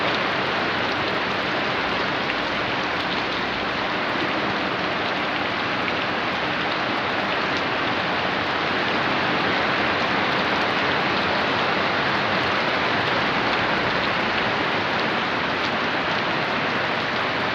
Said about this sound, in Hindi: बारिश कमाल की गिर रही है